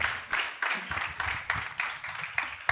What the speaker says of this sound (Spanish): otro fuerte aplauso para nuestro Padre